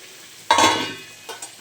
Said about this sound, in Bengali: এটা ভাজা করে নিই ভাজা আমার কমপ্লিট তো দেখো বড়া